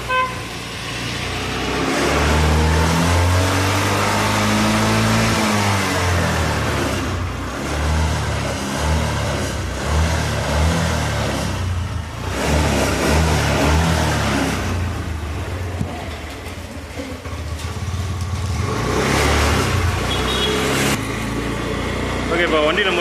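A motorcycle engine with a starting problem fires up and runs steadily, revving at times, loud and close throughout, with people talking over it.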